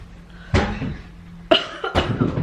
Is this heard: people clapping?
no